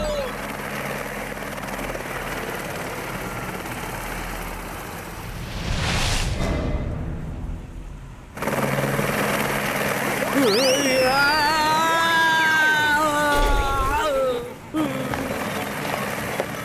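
A helicopter's rotor in the Motu Patlu cartoon whirs loudly and steadily, with a brief whooshing break partway through and squealing, swooping effects layered on top near the end.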